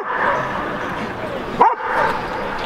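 A dog gives a short bark with a yip and whimpery edge, one sharp call midway through a steady indoor background hum, fairly close and clear.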